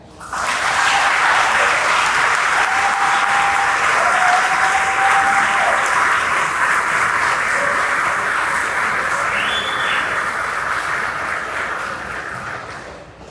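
Audience applause at a commencement ceremony, a long, loud, sustained wash of many people clapping with a faint whistle or cheer partway through, tapering off toward the end.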